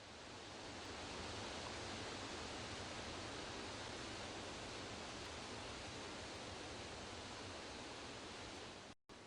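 Rushing meltwater pours through waterfalls and small brooks on the slopes of the Putorana plateau in Siberia, a steady dense roar that holds evenly throughout and cuts off briefly at the end.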